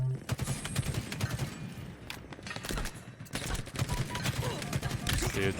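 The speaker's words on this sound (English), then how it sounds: "that assault rifle literally almost just killed me there" Bursts of assault rifle gunfire in a video game, rapid cracking volleys rising and falling across the moment with mechanical clicks between them, fairly loud and up front.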